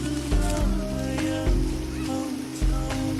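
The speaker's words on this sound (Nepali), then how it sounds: "यत्रो पानी परिरहेछ है" Heavy rain falling on a flooded Kathmandu street, a steady wash of rain over a low engine-like hum with a few louder surges.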